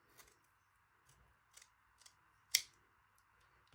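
Scissors snip through hair braids in a handful of quiet, scattered cuts, with one sharper, louder snip near the end, close up over a faint steady hum.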